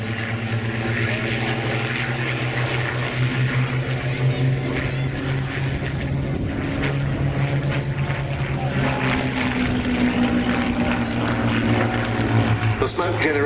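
An ex-Spanish Air Force Hispano Buchon propeller fighter, trailing smoke from a smoke generator, flies over the airfield at Duxford. Its piston engine drones loud and steady throughout, with a commentator speaking over it.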